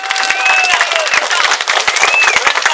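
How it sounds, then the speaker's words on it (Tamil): Live audience at a Tamil comedy debate show for Vinayagar Chathurthi claps and cheers for the judge, a dense, loud and continuous burst of applause with whistles over it. "இந்த நடுவருக்கு ஒரு கைதட்டு கொடுங்க பாப்போம்."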